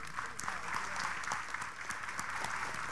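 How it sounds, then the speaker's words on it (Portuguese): An audience at a Brazilian productive-sector dialogue event with the president of Inmetro applauds him, steady dense clapping throughout with no one speaking over it. "pedindo a todos uma salva de palmas ao nosso presidente"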